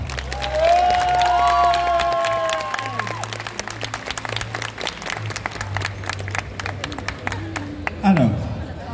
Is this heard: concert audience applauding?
yes